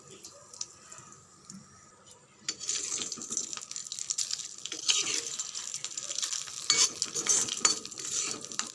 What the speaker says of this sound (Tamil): எல்லாமே சேர்த்தாச்சு. நல்லா கலந்து விட்டுடுங்க